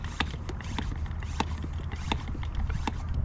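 A spray bottle of garden treatment for black spot and powdery mildew misting plants in a zone 9a garden, with a series of short, crisp spritzes at irregular intervals over a low, steady background hum.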